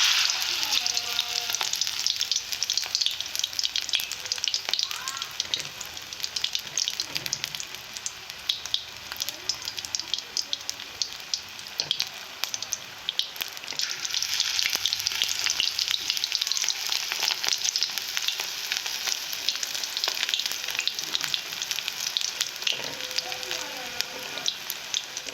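Fish roe pakoras sputter and sizzle in hot oil in a kadai, a loud, continuous crackling fry with scattered pops and faint clinks of a utensil throughout.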